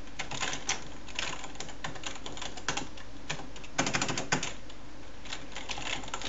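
Steady typing on a computer keyboard while entering C++ code, a quiet run of close, irregular key clicks with a few louder bursts and no talking.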